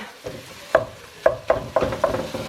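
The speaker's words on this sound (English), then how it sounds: "And we're just gonna brown this guy up." Ground beef, about a pound or more, browning in a pan, with spatula scrapes and stirring knocks repeating every quarter to half second over a low sizzle.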